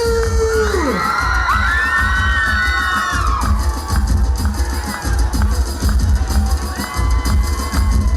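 A crowd of schoolchildren at a school annual function cheers and shouts loudly, with whoops and a sustained roar of voices over a rhythmic background beat.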